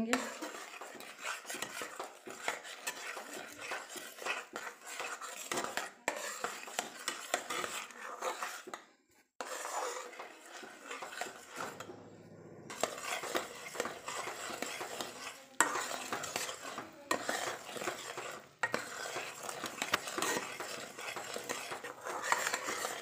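Jaggery with a spoonful of ghee boiling and being stirred in a pan over low heat, a continuous soft bubbling sizzle with repeated scraping and clinking of a spoon against the pan, faint and close, without talking.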